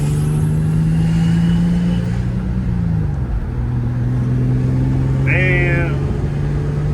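A Nissan G35 with a swapped engine drives and accelerates, its steady engine drone rising and falling in pitch as it shifts, loud and close, with a voice briefly heard.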